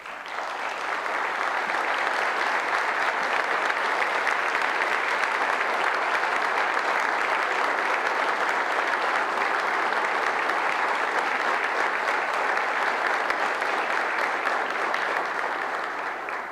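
Sustained applause from a large audience in a convention hall at a journalists' union congress, dense, even clapping that fills the room for the full stretch without letting up.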